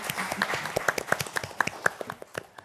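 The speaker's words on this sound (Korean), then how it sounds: "큰 박수로 맞이해 주십시오." Audience applause welcoming a panel speaker at a forum on digital piracy and copyright education: a small crowd claps with scattered, uneven hand claps that thin out toward the end.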